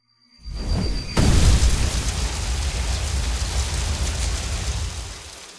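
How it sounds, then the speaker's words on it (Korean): A sharp blast erupts and rolls into a sustained roaring, crackling wash of noise that slowly fades. "창끝이 공기를 갈라 폭발음과 함께 불꽃을 흩뿌렸다."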